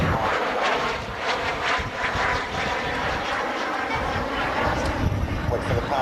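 Jet fighter at the Fairford airshow roars overhead as its engine spools up, a loud, broad rushing sound that rises and falls, with a commentator's voice talking over it.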